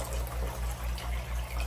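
Water poured from one aquarium tank into another, a steady close gush with a rhythmic pulsing surge and no talking.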